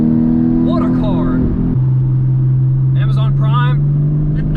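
A 2022 Porsche 718 Cayman GTS 4.0 accelerates out of a corner. Its engine drone drops in pitch after a shift and then climbs steadily, with a brief crackle, while someone talks over it.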